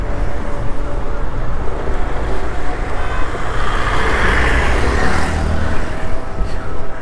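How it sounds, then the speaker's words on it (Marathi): Heavy road traffic crawling across the Pamban bridge over the sea, a loud continuous roar of engines and wind rumble with a passing vehicle swelling midway, all close and unbroken. "पामबम ब्रिजवर ट्रॅफिक होतं"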